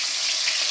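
Fish frying in hot oil, giving a dense, bright hiss of sizzle and spatter that runs without a break through the brief moment, close and with no voices.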